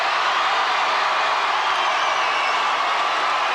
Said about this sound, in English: as you can hear from the crowd